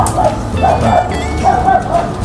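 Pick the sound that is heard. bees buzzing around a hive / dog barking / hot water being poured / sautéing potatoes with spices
dog barking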